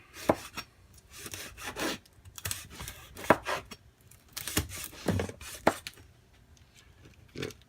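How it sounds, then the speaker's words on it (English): Knife chopping two slices of oven-cooked bacon on a board, a quick series of close, uneven chops and scrapes in short bursts with pauses between, no voice. "I'm also going to chop up this bacon"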